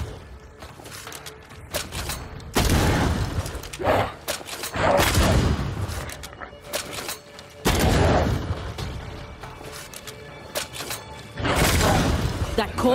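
Gunfire erupts in Banishers: Ghosts of New Eden during a boss fight against the Clouded Harvester, several loud, heavy bursts in separate waves with mechanical clatter between them.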